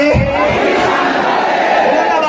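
Large crowd at a religious gathering raising a loud, sustained collective chant, dense massed voices filling the space without pause.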